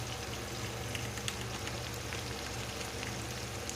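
Cumin and fenugreek powder sizzle in a pan with a soft, even, rain-like crackle that stays faint and steady throughout.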